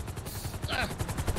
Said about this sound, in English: we got a helicopter here to pick you